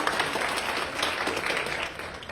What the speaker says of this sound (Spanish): podemos brindarle un fuerte aplauso a la doctora